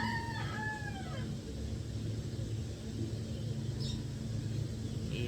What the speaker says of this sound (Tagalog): Nagugulat ka na may ibon na ulit eh.